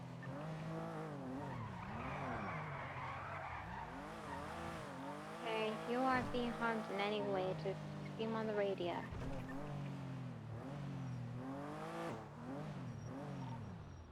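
A black car in the NoPixel game world skids and races past, tires squealing and engine revving in rising, falling sweeps, heard under a voice talking on a radio.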